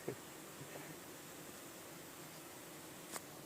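Honey bees buzz outside a beehive on a hot day, a faint, steady outdoor hum with a couple of brief rustling ticks and no talking.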